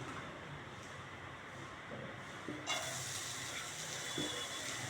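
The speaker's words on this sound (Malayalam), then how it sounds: "ഈ എണ്ണ ഒന്ന് നന്നായി കാഞ്ഞു വരുമ്പോൾ ഞാൻ എന്താ ചെയ്യാൻ പോണറിയോ ഒരു രണ്ട് വലിയ ഉള്ളി" Two big onions drop into hot oil and start frying, a steady hiss that jumps suddenly into a louder, brighter sizzle partway through, with faint stirring scrapes.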